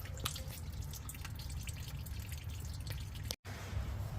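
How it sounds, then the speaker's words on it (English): Gasoline drips steadily from the drained fuel tank of a 1986 Toyota Camry into a catch container beneath the car, a close, continuous patter of drops with a brief gap near the end. "drain the tank. Have something underneath it to catch the gas."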